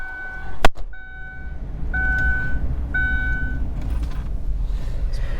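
A 2002 Ford Windstar minivan starts with a sharp click among repeating dashboard chime beeps, then settles into a low, steady engine idle close by.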